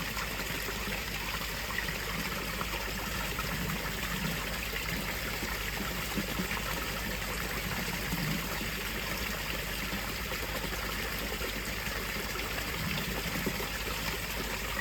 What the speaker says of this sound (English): we're putting a lot of water in